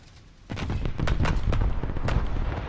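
Naval guns of the battleship HMS Hood firing in a naval game: after a quiet start, a heavy sequence of booming blasts and sharp cracks rolls on continuously, loud and dense.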